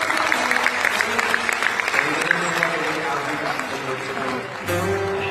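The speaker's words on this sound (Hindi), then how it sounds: "प्रेम से ताली बजाइए" Applause from devotees at a religious gathering, a crowd clapping together in a steady rush with voices mixed in beneath it.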